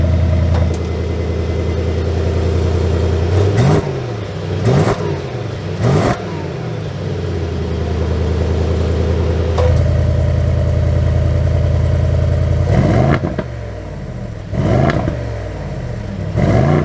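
A 2022 Mercedes-AMG GLE 63 S V8 idles with a deep, loud rumble close by and is blipped through several sharp revs that rise and fall quickly, with no talking.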